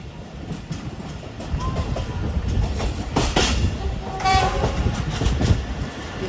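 A passenger express train rolls without stopping through Dig Road junction in Pakistan, rumbling and clattering steadily on the rails. A horn blast or squeal rises midway, with faint voices in the background.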